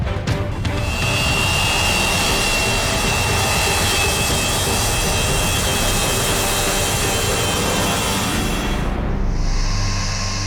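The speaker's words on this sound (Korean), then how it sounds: "러시아 화물기 안토노프가 4개의 엔진 굉음을 울리며 공항에 도착했다." Four-engine Russian Antonov cargo plane, the world's largest freighter, arriving at Fairbanks airport in Alaska, its engines roaring loud and steady throughout before cutting off abruptly near the end, leaving a faint high whine.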